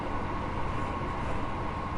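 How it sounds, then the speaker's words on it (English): A Class 170 Sprinter-type train racing at about 85 mph along the Midland Main Line in Train Sim World 4, giving a steady, dense rumble of wheels and engine with a faint sustained tone, loud and continuous with no talk. "Going 85 miles an hour in this train."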